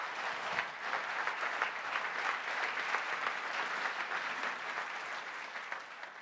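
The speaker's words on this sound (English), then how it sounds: "Can we have a round of applause for our map creator entries?" Sustained applause from a conference audience at a customer success awards closing plenary, a steady dense wash of clapping holding level for several seconds with no talk over it.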